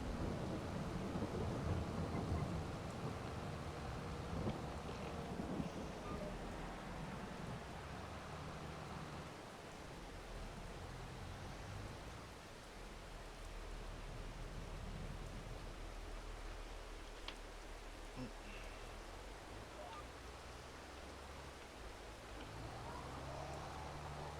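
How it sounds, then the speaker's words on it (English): Rain with a rumbling thunderstorm in the Farming Simulator 22 video game: a continuous hiss of rainfall with low thunder rolls, strongest early, then a steady, moderately quiet wash. "I do like the sounds in FS22 with the rain and the thunderstorms."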